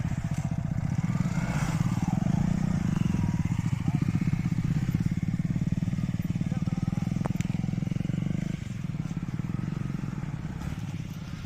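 Two motorbikes ride along, a steady close engine drone with a faint rattle throughout, running continuously without clear changes in speed.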